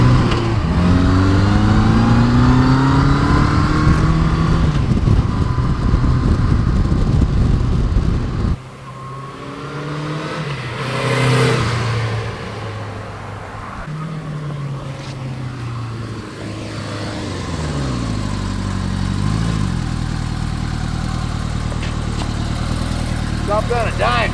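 A Honda GL1200 Goldwing motorcycle rides along with a smooth steady engine drone and rising and falling revs through gear changes, with wind noise and a voice talking over it at times.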